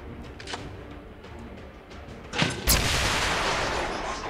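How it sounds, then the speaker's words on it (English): A grenade blast setting off a claymore in the XCOM 2 video game: a sharp explosive crack followed by a heavy, sustained rumbling roar that fills the remaining seconds, with faint scattered pops before it. "So now I'm going to try to blow up the claymore with a grenade from my grenadier for double the fun,"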